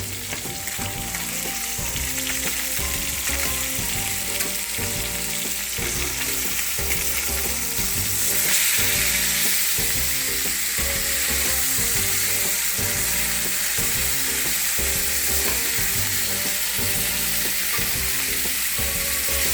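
A teriyaki honey tuna steak sizzles and crackles steadily in a pan just after being flipped, a loud continuous frying hiss with faint rhythmic clatter underneath, and no talking.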